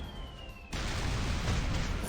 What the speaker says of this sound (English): Nana wants to make a huge explosion